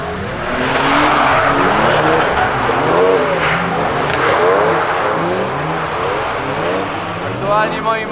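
A race car roars past at speed around the MotoPark Toruń track, engine revving and shifting continuously with tire noise, loud and close throughout, with voices faintly underneath.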